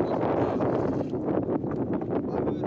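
Boat ride across a river, carrying a steady, close rush of wind buffeting the microphone over water and engine rumble, continuous throughout with no clear breaks.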